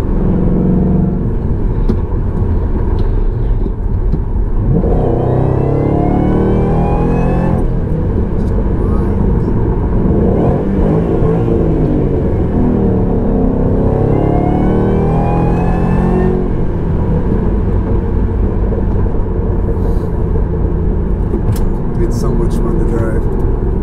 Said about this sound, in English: The whine of that supercharger.